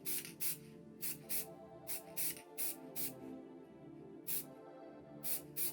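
Aerosol spray paint hisses onto a Matchbox Mk2 Ford Cortina GT two-door model in about half a dozen short, close, sharp bursts separated by brief pauses, with no talking.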